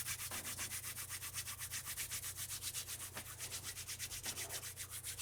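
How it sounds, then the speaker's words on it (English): Bare palms rubbing briskly together, a fast, even run of soft swishing strokes that continues for several seconds over a low, steady background hum. "Begin to rub your palms together and generate some heat."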